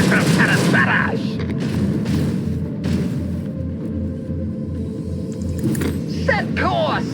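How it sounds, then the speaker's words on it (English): A macro cannon barrage thunders from a starship in Rogue Trader, deep repeated booms and a heavy rumbling bed, with a commanding voice speaking over the firing. "Initiate macro cannon barrage!"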